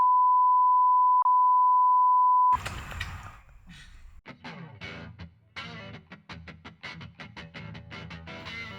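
A steady electronic beep tone holds for about two and a half seconds with a short blip partway through, then gives way to louder, distorted spoken and music-like sound.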